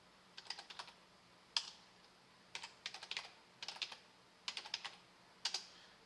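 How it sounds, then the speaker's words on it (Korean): Computer keyboard keys clack in quick clustered bursts of three to five presses, close and crisp, separated by short pauses in a quiet room. "키보드"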